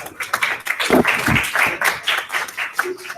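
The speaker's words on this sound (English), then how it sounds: "So if we could give them a round of applause." Audience at a student government town hall gives a short round of applause, moderately loud scattered clapping with some uneven taps, lasting a few seconds.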